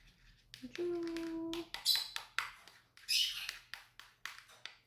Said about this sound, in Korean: 선생님네 새가 엄청 짹짹거리고 있어서 시끄럽지 않나요?